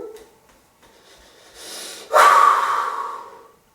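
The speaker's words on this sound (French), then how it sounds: "On respire." A deep breath out during a stress-relief breathing exercise: a soft, quiet inhale, then a loud, long, close exhale that gradually fades.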